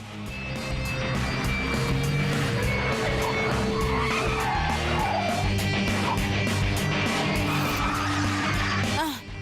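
Cartoon race cars roar past at speed during a race, with tires squealing and skidding. Loud, continuous engine whine and screeches fill the whole stretch up close, and a voice is faintly mixed in.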